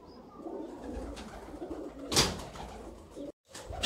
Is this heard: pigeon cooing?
yes